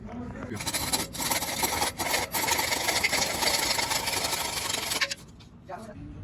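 Steady rasping, grinding scrape of a blade cutting through a metal transmission cooler line on a Ram 1500 4.7 V8, continuous for several seconds with brief pauses, then stopping abruptly.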